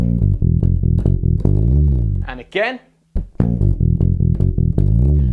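A bass guitar plays the fourth and final phrase of a lick as a run of short, rhythmic plucked notes, clear and close, broken in the middle by a brief spoken interjection before the phrase repeats.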